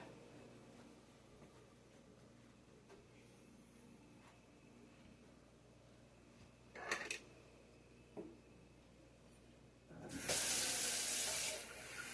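A kitchen tap opens and water runs steadily into a sink for a couple of seconds after a few faint clicks and clunks in a quiet room.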